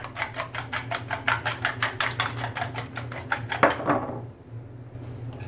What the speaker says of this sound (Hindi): अंडों को फेंट लीजिए।